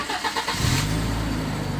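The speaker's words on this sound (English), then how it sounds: "Now I always leave the bonnet up so you get a real good listen to what the engine sounds like" A used car's engine cranks briefly and catches from cold under an open bonnet, then settles into a steady, fairly quiet running hum.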